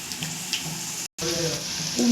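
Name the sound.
chicken pakora balls frying in oil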